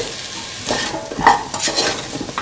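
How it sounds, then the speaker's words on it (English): Green chilies hit hot oil in a frying pan with a close, crackling sizzle, stirred with a few soft scrapes and clinks, loud and continuous with no talk. "put in the green chilies."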